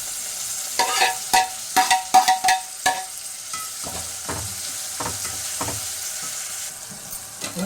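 Tomato and onion sauté in a pan for a vegetable biryani, giving a soft sizzle under a run of loud spatula scrapes and taps early on, then sparser stirring strokes, close by with no voices.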